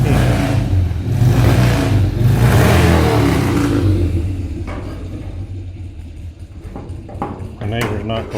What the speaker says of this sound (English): My neighbor's not cooperating very much with his motorcycle